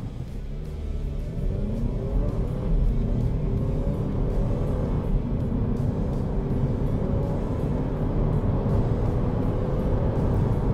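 Haval F7 2022 SUV accelerating hard from a standing start, its engine a steady loud rumble and rising whir that holds strong and continuous throughout, with no voices.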